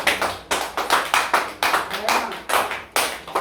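A church congregation claps together in praise, a loud, steady rhythmic beat of hands filling the room, with voices faintly underneath.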